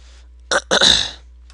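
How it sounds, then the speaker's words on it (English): A short, gravelly throat clearing close to the microphone, two quick rasping pushes followed by a longer rough exhale, during Minecraft gameplay. "Clear my throat and whatnot."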